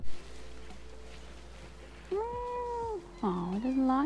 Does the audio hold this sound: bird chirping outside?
no